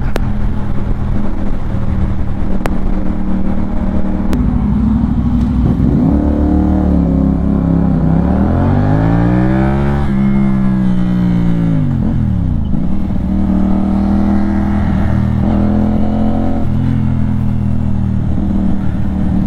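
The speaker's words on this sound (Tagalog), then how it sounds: "Traffic sa kabila." Road traffic in Muntinlupa is heard from a CFMOTO 450CL-C motorcycle, with engine drone rising and falling as vehicles rev and pass nearby, loud and continuous with wind rumble throughout.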